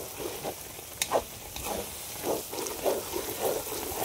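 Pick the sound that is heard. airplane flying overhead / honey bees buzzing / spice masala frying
spice masala frying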